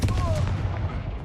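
Confringo fire-blast spell from the Hogwarts Legacy video game, a loud explosive burst with a brief whistling streak, followed by a fading crackling rumble.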